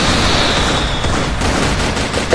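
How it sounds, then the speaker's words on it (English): Fireworks go off in the multiplayer airship battle game Zeppelin Wars, a dense, continuous crackling barrage of rapid pops and bursts that stays loud throughout without speech. "Fireworks!"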